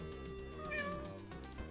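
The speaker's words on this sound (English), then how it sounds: "The cat can meow." Cartoonish cat meowing from the video game Five Nights at Frickbear's 3, a single drawn-out meow heard loud and close over a repeating game soundtrack.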